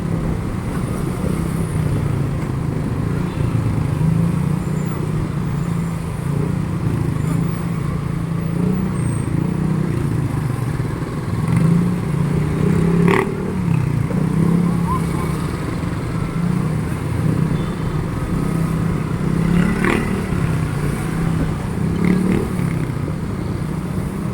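Steady engine rumble from motorcycles and traffic on a busy city street continues throughout, with occasional brief clanks and faint voices.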